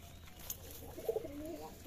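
Pigeons in a pigeon house on a Bangladeshi pigeon farm give a soft, low cooing burst midway through, faint and close, over quiet background hiss.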